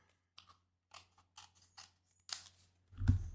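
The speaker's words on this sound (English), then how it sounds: "I'm just going to cut that off so you don't see it." Scissors snip through material in a craft session, several quiet, separate crisp cuts in an irregular rhythm, close by, ending in a louder rustle.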